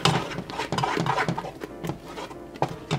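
Peppermint mixture being stirred in a pot, a close, busy run of wet scraping and clattering strokes at a quick, uneven rhythm with no talk.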